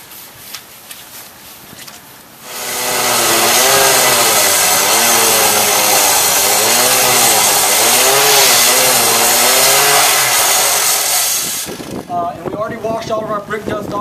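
Gas-powered mason saw scoring lines into an exterior brick wall, a loud, close engine-driven roar that starts abruptly, holds with wavering pitch as the blade cuts, then cuts off, with quieter clatter around it.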